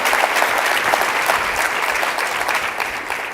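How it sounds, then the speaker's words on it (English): An audience at a health summit applauds after a panel discussion, with sustained, dense clapping from many people filling the room evenly and loudly throughout. "let's give a round of applause for Ben and Bharat."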